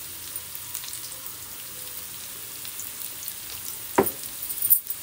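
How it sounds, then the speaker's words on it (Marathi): Onion bhaji fritters frying in oil over a medium flame give a soft, steady sizzle throughout, with a brief sharper crackle near the end and no talking. "तर आता याला मी मीडियम फ्लेमवरती तळून घेते."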